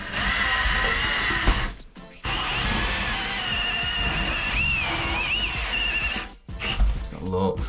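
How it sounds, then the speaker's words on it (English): Power drill boring into an old plastered wall, a loud steady whine running for several seconds with a brief stop, then resuming; talk and exclamations over it. "we'll get this drill next"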